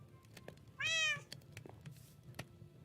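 A single clear cat meow from a Minecraft game rises over a quiet background, with faint clicks and taps before and after it.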